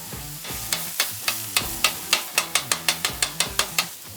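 Ground chicken cooking on a hot griddle for cauliflower fried rice, with a rapid, regular run of sharp spatula taps and scrapes over a steady sizzle, close and loud, no talk.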